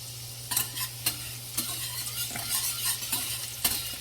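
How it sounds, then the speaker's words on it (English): Steady frying sizzle of shallots and green onion in a pan, punctuated by several sharp clinks and scrapes of a utensil stirring, with a low constant hum underneath. "So now we adding our shallots, our green onion."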